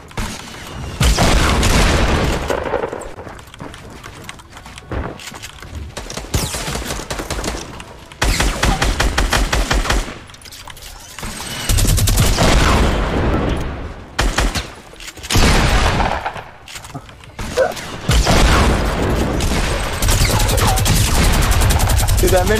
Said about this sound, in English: Get that minigun, baby. Get that minigun.